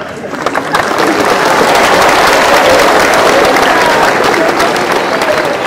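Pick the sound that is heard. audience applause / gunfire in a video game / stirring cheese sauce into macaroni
audience applause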